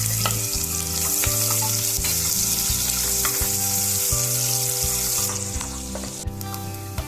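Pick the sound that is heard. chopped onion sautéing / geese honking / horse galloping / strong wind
chopped onion sautéing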